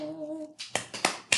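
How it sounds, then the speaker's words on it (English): A girl claps along to a song, four sharp claps in quick succession following a short sustained tone, close and distinct. "My daughter's over there doing her social studies and clapping along."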